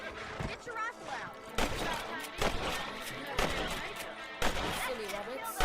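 Rifle shots fired at rabbits raiding crops in the video game Red Dead Redemption, several sharp cracks at intervals over game music and voices talking.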